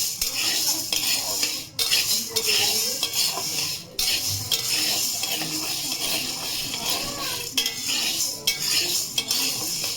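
Moong dal is stirred and dry-fried in a pan, with a metal spatula scraping and clattering steadily against the pan over a constant soft sizzle, close and fairly loud.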